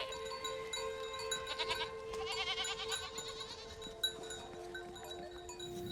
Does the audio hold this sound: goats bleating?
yes